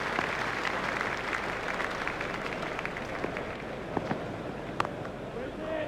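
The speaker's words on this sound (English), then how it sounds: "He's getting a standing ovation from this excellent crowd." Crowd applause from the Cricket 2002 video game fills the scene as a steady, loud wash of clapping for a batsman's fifty, with a commentator speaking over it.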